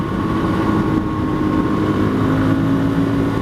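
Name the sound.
motorcycle engine running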